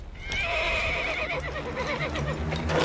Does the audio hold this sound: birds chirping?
no